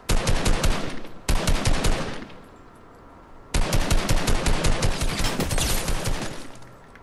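Rapid bursts of automatic gunfire in the video game Fortnite, loud and close, broken by a short lull before a long sustained volley resumes.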